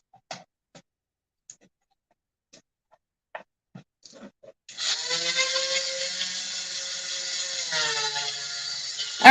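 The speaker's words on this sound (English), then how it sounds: "I am going to get my Dremel, and very quickly, we're just going to Dremel the backs of these" A Dremel rotary tool grinds the backs of craft pieces, a steady high whine starting partway in and running continuously to the end after a few scattered clicks and handling noises.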